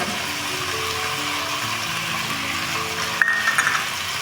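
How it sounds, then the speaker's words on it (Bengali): Chicken kasha with potato and dried chilli paste sizzles steadily in a pan, a constant frying hiss with a brief clink of stirring near the end. Soft background music runs underneath. "এখন একটু ভালো করে কষিয়ে নেব দিয়ে দেবো শুকনো লঙ্কা বেটে রাখা শুকনো লঙ্কাটা"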